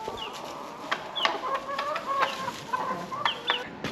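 Chickens in a poultry run cluck and chatter in a busy, overlapping flurry of short calls, close and fairly loud over a steady outdoor background.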